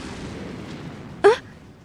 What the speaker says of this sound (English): An explosion nearby knocked my upper body back, and I slipped.